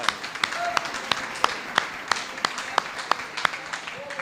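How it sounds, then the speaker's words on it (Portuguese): A church congregation claps in a sparse, irregular rhythm, individual sharp claps ringing out at intervals, with faint voices beneath. "Uma salva de palmas ao Espírito Santo."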